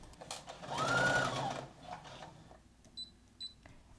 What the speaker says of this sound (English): We'll sew from the raw edge towards the dart point.